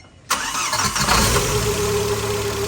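The engine of a Tata CNG vehicle cranks and catches after a moment of silence, then settles into a loud, steady idle close by, just after water pump and front belt work in a repair shop.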